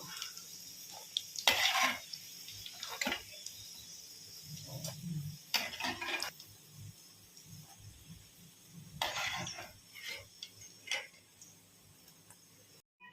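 Chicken pieces fry in oil for homemade chicken pickle, a faint, soft sizzle broken by intermittent scrapes and clinks of a utensil against the pan.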